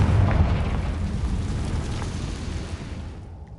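A Confringo fire spell explodes in Hogwarts Legacy with a deep booming burst that rolls out into a crackling rumble and slowly fades over a few seconds.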